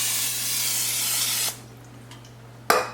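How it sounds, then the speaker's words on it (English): Olive oil spray spritzed over breaded pork chops before air frying: a steady, close hiss lasting about a second and a half, then a pause and one brief second burst. "we are going to just spritz a little bit of olive oil spray right on top of them"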